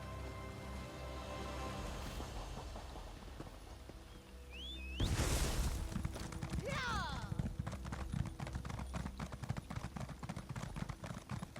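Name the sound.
horse hooves clip-clopping in ESO video game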